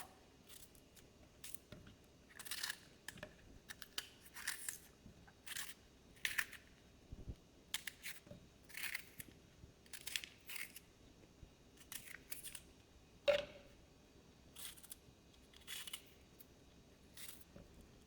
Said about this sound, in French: Je vais prendre mon poivron que je vais hacher grossièrement dedans.